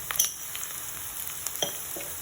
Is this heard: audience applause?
no